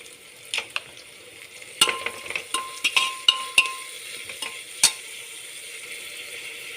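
A spoon stirs a vegetable mixture in a pan, giving a soft sizzle with a run of sharp clinks and scrapes against the pan, close and without talk.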